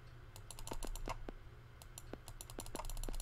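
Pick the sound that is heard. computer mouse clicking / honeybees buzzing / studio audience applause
computer mouse clicking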